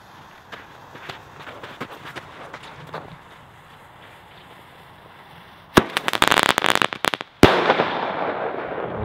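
Several loud firework bangs from Lesli Thunder Kong tubes burst in a quick cluster, followed by one sharp report and a crackling, hissing tail, after lighter scattered pops earlier.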